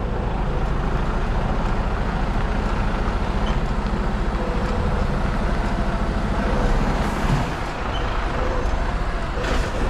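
A truck eases its trailer back into a yard with a loud, steady diesel engine rumble filling the scene, a brief hiss or release near the end.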